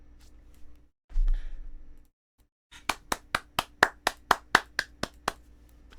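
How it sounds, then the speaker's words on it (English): Applause from a video played back on screen, a burst of about a dozen sharp, evenly spaced claps rising and falling after a brief lull, loud and close with no talk over them. "Applauds for Butch"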